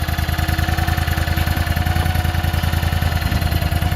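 A 35-horsepower mud boat engine with a hydraulically trimmed outdrive idles loudly and steadily at close range, its fast, even chugging pulses continuing without a break.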